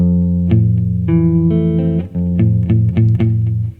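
Guitar strings plucked one at a time through a chord, each note ringing out in a slow sequence with a slightly distorted tone.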